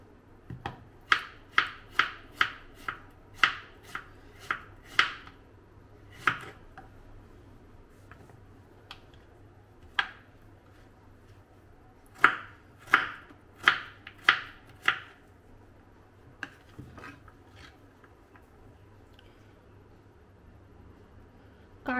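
A knife chops through a young, tender pumpkin in runs of sharp, crisp strikes, clustered in quick bursts with short pauses between, close and clear.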